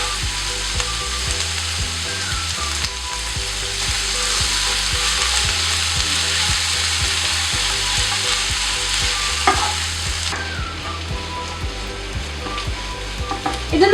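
Sliced onions sautéing in oil with salt for prawn roast give a steady close sizzle, punctuated by a regular rhythm of spatula scrapes and taps against the pan.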